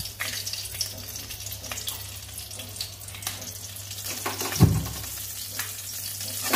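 Green chillies dropped into a pan of eggplant and radish greens, frying with a steady close sizzle and a brief louder burst of hissing partway through.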